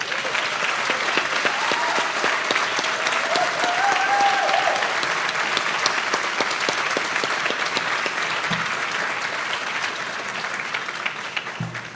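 An audience at a crisis care center ribbon-cutting ceremony applauds steadily and warmly for about twelve seconds, a loud continuous patter of many hands clapping that tapers slightly at the end.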